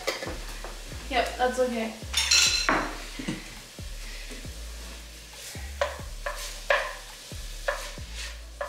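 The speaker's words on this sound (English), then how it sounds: "We saute that with the onion and tomato." Onion and carrot sautéing with tomato paste in a pan for a Turkish red lentil soup: rhythmic scraping stirs and utensil clinks over a low sizzle, with brief talk near the start.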